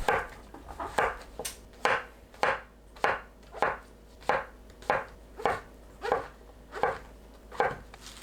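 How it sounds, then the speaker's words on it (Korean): A knife slicing king oyster mushrooms into long thin strips on a cutting board, about fourteen crisp, evenly spaced chopping strokes close up in a quiet kitchen. "새송이 버섯을 길게 채 썰어 주세요."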